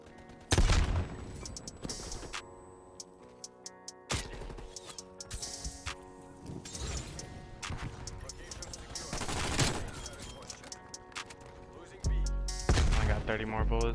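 Vargo 52 assault rifle fire in a video game: sharp repeated shots and short automatic bursts, loud and close, separated by brief pauses, with a heavier volley near the end.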